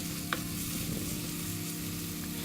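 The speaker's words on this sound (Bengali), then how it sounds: "এই তো এভাবে মশলাটা ভালো মতো কষাতে হবে অনেকক্ষণ সময় নিয়ে।" Spice paste with tomato and ginger-garlic frying in a pan for mutton curry, a steady close sizzle with a faint scrape of stirring and a brief clink near the start, no talking.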